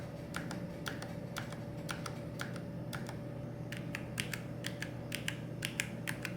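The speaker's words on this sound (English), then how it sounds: "The linear switches also got quieter, but I feel like they also got a bit mushier." Typing on a Logitech G915 X Lightspeed wireless mechanical keyboard with linear switches: quiet, slightly soft key clicks in irregular quick bursts over a steady low hum, close and faint.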